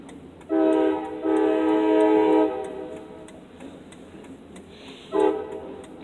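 A CSX freight train locomotive horn blasts loudly in two long chords, then a short third blast, with a rhythmic clicking running through the whole stretch as it passes through Danville, Illinois.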